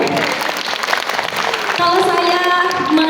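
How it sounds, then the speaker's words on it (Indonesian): Audience applause at a school event in Jakarta, a steady wash of clapping from a seated crowd, with a host's voice talking over it at the start. "Boleh saya dengar tepuk tangannya Bapak Ibu?"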